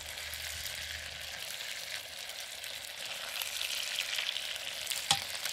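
Chicken meat frying in an electric wok for a Chinese-style tomato sauce dish, giving a soft, even, fairly quiet sizzle that swells slightly, with one brief knock of a utensil near the end.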